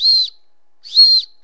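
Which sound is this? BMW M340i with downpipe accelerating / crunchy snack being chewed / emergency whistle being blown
emergency whistle being blown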